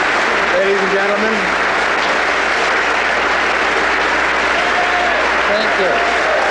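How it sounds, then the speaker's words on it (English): Justice Department employees lining a balcony applaud, a steady broadband wash of clapping filling the whole stretch, with a few faint voices mixed in underneath. "He is getting an applause, not necessarily from the reporters, but from the Justice Department employees who are, as you see, lining the balcony."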